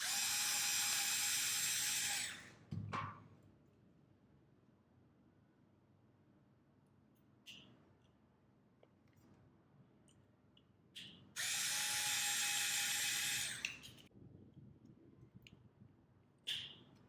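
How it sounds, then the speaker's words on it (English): Two loud, sustained whirring bursts from a power driver tightening screws while assembling a Petoi Bittle robot dog, each lasting about two seconds, separated by a long quiet stretch with faint handling clicks. "Then use screws to fix it"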